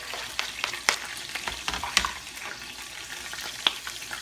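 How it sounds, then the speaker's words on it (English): Chopped garlic frying in olive oil for aglio e olio, a steady close sizzle crackling with scattered sharper pops and clicks of stirring, no voices. "We're going to put our garlic in there."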